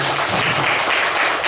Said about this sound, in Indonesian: tepuk tangan untuk kelompok 1 dan 2